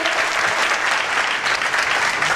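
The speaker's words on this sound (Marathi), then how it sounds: "जोरदार टाळ्या होऊन जाऊ देत." Audience applause at a Gurupornima music event, dense steady clapping from a large crowd, loud and continuous throughout without any talking.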